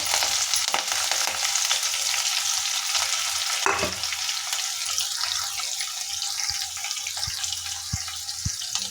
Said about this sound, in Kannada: ಕಡಲೆಬೇಳೆ ಕಡಲೆ ಬೀಜ ಹಾಕೊಂಡಿದ್ದೀನಿ ಸ್ವಲ್ಪ ಫ್ರೈ ಆಗಿ ಕಡಲೆಬೇಳೆ ಸ್ವಲ್ಪ ಕೆಂಪಗಾಯಿತು